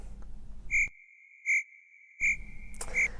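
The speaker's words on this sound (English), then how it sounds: "Ooh, those crickets are bad news." A comedic cricket chirp used to mark an awkward silence: four evenly spaced, clear, pure chirps, loud and close, over a faint background hiss that drops away completely in the middle.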